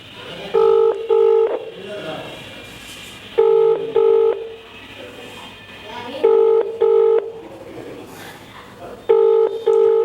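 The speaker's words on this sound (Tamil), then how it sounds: "ரிங் போகுது." A phone call goes out as a ringback tone repeats in double bursts, four cycles spaced a few seconds apart, loud and clear over faint background noise.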